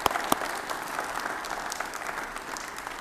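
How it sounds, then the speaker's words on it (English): An indoor audience at a press event claps in a sustained round of applause, steady and moderately distant, with no voices over it. "So could we just give a round of applause for that?"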